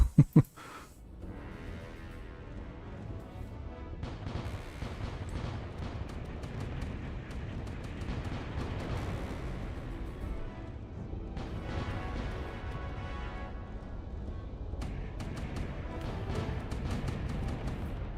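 Laser weapon fire in the space game Void Sails, heard as a sustained roaring, crackling blast that rises and falls over a long stretch after a couple of sharp opening impacts.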